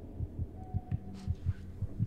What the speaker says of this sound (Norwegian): Og under mine hjertebanken her.